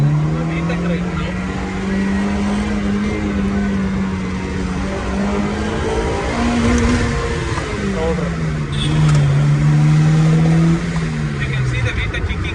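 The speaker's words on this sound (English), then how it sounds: "When the car VTEC kicks in above 3 or 4000 RPM, it sounds really insane and cool." A loud Honda VTEC engine drones from inside the cabin, its pitch climbing sharply as VTEC engages above 3,000 to 4,000 RPM, then dropping and rising again.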